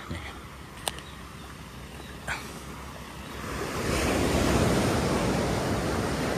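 Surf pounds a beach on the southern coast near Indrapuro, with steady wind noise at first and then a louder, closer wave rushing in during the second half.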